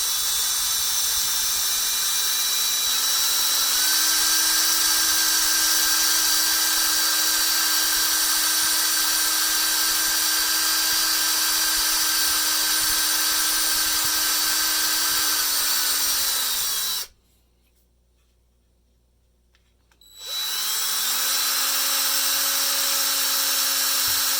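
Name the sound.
drilling into metal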